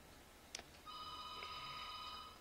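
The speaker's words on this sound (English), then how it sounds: "Uh-oh, phone ringing." A telephone rings once, faint and steady, in a quiet indoor room, preceded by a brief click.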